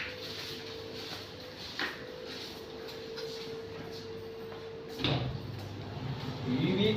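Dynamic passbox door with static door closers being opened during installation: a soft click, then a sharp knock as the door releases, over a steady hum from the unit's motor and lights.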